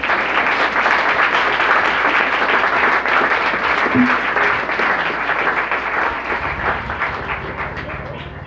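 Loud audience applause for school students' performance at a Jacmel cultural event, sustained dense clapping from a large crowd that holds for several seconds before slowly easing off.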